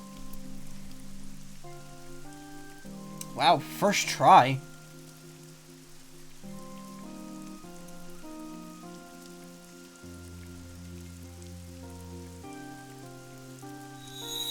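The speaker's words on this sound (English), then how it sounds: "It's raining." Rain falls in the video game AI: The Somnium Files, a soft steady patter under sustained musical tones, with a short burst of speech early on.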